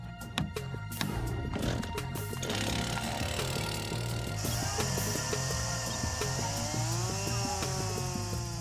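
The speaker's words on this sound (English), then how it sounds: "To speed up the process, chainsaws are called in." A loud chainsaw cutting wood for boat construction rattles and whines continuously, its pitch shifting as it bites into wood, with mechanical clatter at the start.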